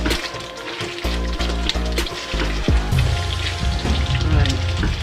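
Nigerian jollof rice frying in a pot: a loud, dense, continuous sizzle like heavy rain, with a low rhythmic hum underneath, steady and close throughout.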